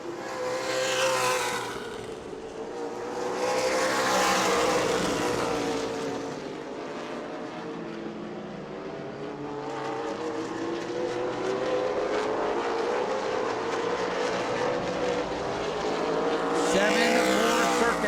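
Race cars lap the banked New Smyrna Sunbelt Series oval, engines swelling and fading in long repeated passes as they roar down the straightaways, with a commentator talking over them.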